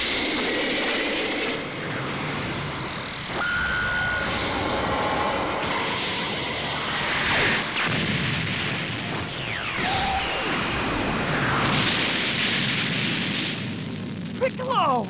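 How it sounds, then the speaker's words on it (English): A Supreme Cannon energy attack explodes in Dragon Ball Xenoverse 2, a long, loud, roaring blast with rumbling and sweeping whooshes lasting many seconds, mixed with game voices shouting. "Supreme Cannon!"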